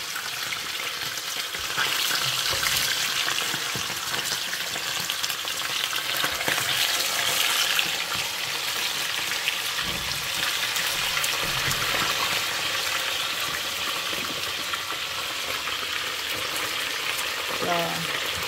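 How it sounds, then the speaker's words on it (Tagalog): Fish deep frying in hot oil for a home lunch, a steady loud sizzle and crackle running throughout with occasional sharper pops and brief clatter, no talking. "lagay na natin yung ating isda. Mainit na yung ating mantika."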